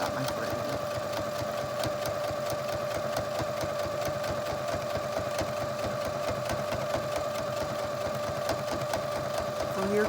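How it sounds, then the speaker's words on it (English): A sewing machine runs steadily, top stitching along the edge of a zippered fabric pouch, with a close, even, rapid mechanical hum and needle clatter throughout. "just down the edge here to make a nice top stitch"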